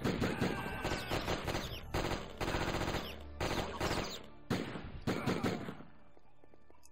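Machine gun fire in the Die Hard Trilogy video game: loud, dense bursts of rapid shots rattle with short gaps between volleys, and quieter game ambience sits underneath.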